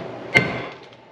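A single sharp, ringing metallic hammer strike lands on a truck's leaf spring hardware during removal, followed by a short fading ring and faint small clinks.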